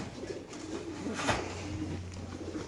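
Pigeons cooing close by, a soft low repeated coo with a brief flutter in the middle, faint and alone without talk.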